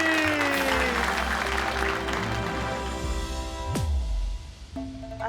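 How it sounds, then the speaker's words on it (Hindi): An audience claps at a comedy-show magic act. The applause is loudest at the start and mixes with sustained musical tones and a sharp swooping sound effect. "जोर से बजाओ ताली"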